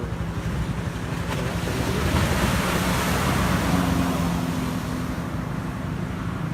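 Strong sea waves roll continuously onto the beach at Rayong on a still, overcast day, a loud, steady roar of surf mixed with wind buffeting the microphone and no voices.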